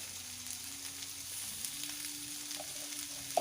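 Katla fish masala frying in hot oil as it is stirred, a steady low sizzling hiss running throughout with a few soft scrapes, with no voices.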